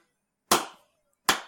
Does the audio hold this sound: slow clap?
yes